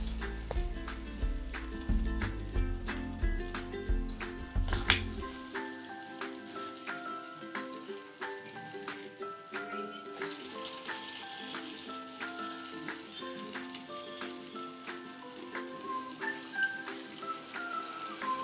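Thayir vadai fry in hot oil with a dense, crackling sizzle full of sharp pops, loud at the start and then a steady bubbling hiss throughout.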